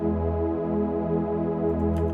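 A sustained synth chord with a dull, muffled tone, its top end rolled off, holding steady with a gentle wavering movement.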